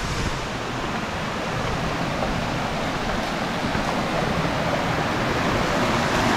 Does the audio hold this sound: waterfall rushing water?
yes